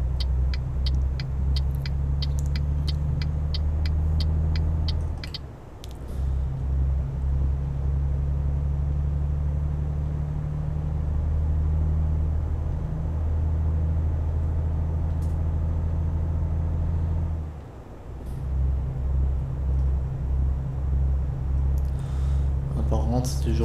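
A truck engine in Euro Truck Simulator 2 drones in a steady low rumble throughout, with two brief dips in level, while someone talks over it at intervals.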